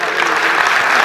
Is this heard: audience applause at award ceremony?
yes